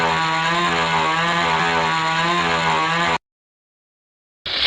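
Loud, steady snarl of a video-game chainsaw swung by Skull Kid, a sustained buzzing drone for about three seconds, then sudden silence before a brief burst of noise returns.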